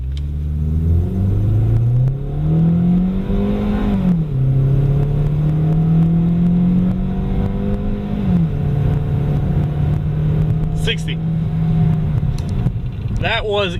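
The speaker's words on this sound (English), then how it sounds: "We're gonna do a little 0 to 60 time test." A 2016 Ford Focus Titanium, 160 horsepower, accelerating hard from 0 to 60, with engine pitch climbing through several gear changes and dipping at each shift, loud and close from inside the cabin, a voice briefly audible near the end.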